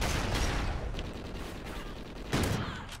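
Rapid bursts of flashbang-style grenade blasts and gunfire in Call of Duty: Ghosts team deathmatch on the Warhawk map, loud and dense, with a sharp renewed burst near the end.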